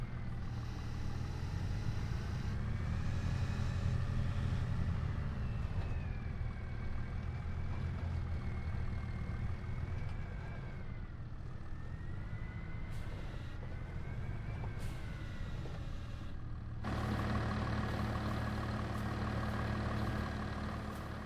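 A tractor engine drones steadily while lifting a whole tree in a logging game, a low continuous rumble that shifts in pitch as the load strains, moderately loud and alone.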